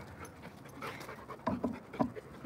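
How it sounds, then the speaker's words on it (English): A puppy pants close by indoors during a plant-repotting session, with a few short, breathy bursts of quick panting that grow louder toward the end. "Kane, are you the bad dog?"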